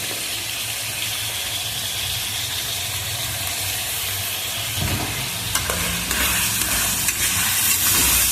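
Onion paste frying in a pan with pointed gourd and prawns gives a loud, continuous sizzle and hiss close up, with occasional stirring scrapes and crackles near the end.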